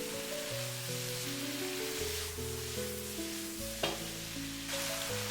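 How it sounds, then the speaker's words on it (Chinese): Pork belly and green beans stir-fried together in a wok, a steady close sizzle with scraping stirs and one sharp clink, set against background music. "接下來把提前炒好的五花肉倒在鍋裡，快速翻炒均勻，使五花肉和豆角完美的融合。"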